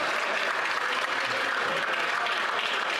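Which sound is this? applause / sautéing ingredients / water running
applause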